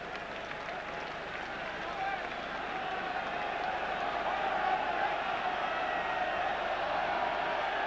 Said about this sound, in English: And now the crowd really coming to life.